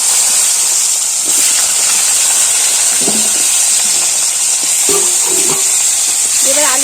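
Potatoes fry in hot oil with dry red chilli, cumin and bay leaf, giving a loud continuous sizzle and hiss with occasional spoon stirs and scrapes, and a faint voice underneath.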